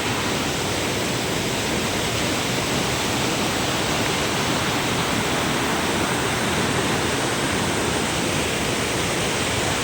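Steady, loud rush of a flowing river fills the whole stretch, a dense continuous roar with no voices or breaks.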